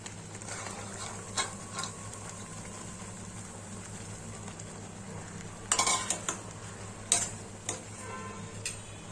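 Peas sizzle and fry in oil in a pan for matar paneer, with a faint steady hiss and scattered spoon taps and scrapes, plus a few louder bursts of stirring.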